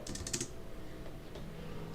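Computer keyboard typing during an After Effects tutorial, a quick burst of close key clicks at the start that then fades to soft, sparse taps over quiet room noise.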